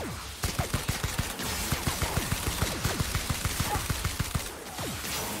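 Rapid automatic gunfire from The Outer Worlds video game, a dense run of sharp repeated shots in quick bursts at a steady pace, heard alone without talk.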